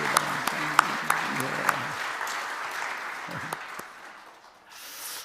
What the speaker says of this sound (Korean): 위로의 박수 한번 드릴까요?